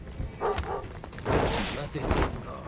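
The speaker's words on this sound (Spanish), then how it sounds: "Puto perro de los cojones que ha empezado a ladrar" Dog barking in the stealth video game Thief, a few sharp barks and yips over thumps and game noise, with someone talking over them.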